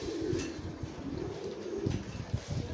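Pigeons coo on a pigeon farm, low rolling burbles from several birds overlapping nearby, with scattered soft thumps and rustles of movement in between.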